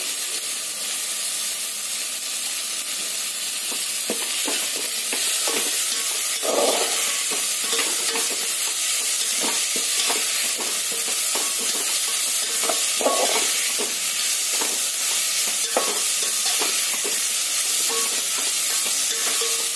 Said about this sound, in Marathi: तेलामध्ये छान एकदम असं मऊ होईपर्यंत याला आपण परतवून घेणार आहोत